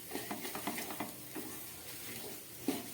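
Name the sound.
frying South Indian tiffin dish in a pan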